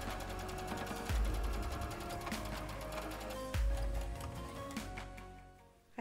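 Sewing machine stitching muslin sashing strips onto a doll quilt, a steady rapid mechanical whir with fine rhythmic needle ticking and a couple of heavier thumps, close and fading out at the end.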